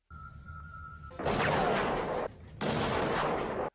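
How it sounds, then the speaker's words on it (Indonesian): Two long bursts of loud, dense gunfire in an action film sniper scene, with a short gap between them, preceded by a steady tone over a low rumble. "Thomas kembali memerintahkan Miller segera menembaknya"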